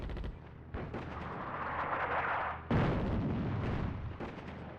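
Artillery fire in the North Africa real-time strategy game Attack at Dawn: heavy booming shell blasts and rumbling detonations roll continuously, loud and close, with a sharp fresh volley partway through and no talking.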